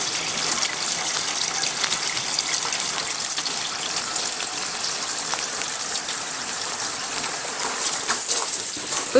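Los Angeles summer rainwater pours and splashes steadily over the side of a collection container, a dense continuous outdoor spatter with no talk.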